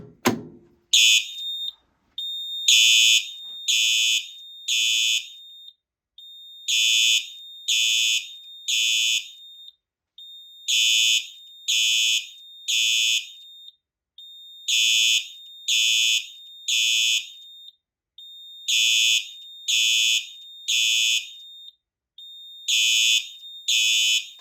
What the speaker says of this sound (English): The horn is doing code 3.